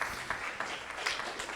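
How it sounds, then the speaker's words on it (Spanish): A congregation claps at a church sermon in a short, faint burst of scattered applause heard from a distance. "Y le damos un fuerte aplauso al Señor."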